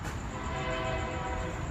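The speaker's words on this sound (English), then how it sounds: "Ooh, there's a train." A passing train sounds its horn in one sustained, fairly loud tone over the rumble of rolling wagons throughout the short stretch, with no talking.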